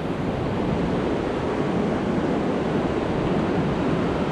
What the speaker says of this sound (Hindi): कंजोति और कंजोति वाटरफॉल का दृश्य देखिए दोस्तों